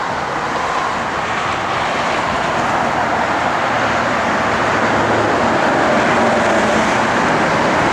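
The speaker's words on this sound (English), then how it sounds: "just great sound and 360 engine" A 1969 Dodge Dart Swinger with a 360 V8, Edelbrock 4-barrel carburetor, aluminum intake and headers, droning in a loud, steady roar as it drives, with road and wind noise blended under the engine.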